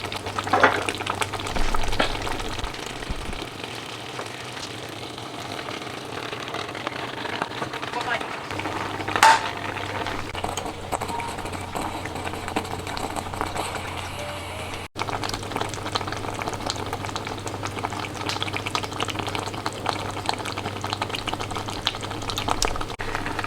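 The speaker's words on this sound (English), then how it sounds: "I'm just going to stir this okra slowly" Okra stew simmering in a pot and being stirred slowly, a steady bubbling, sizzling wash with soft scraping that runs through the clip, close and moderately loud.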